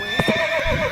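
A single loud, close horse whinny rises and wavers for about a second, with faint hoof clip-clop beneath, in a Western frontier mountain railroad setting.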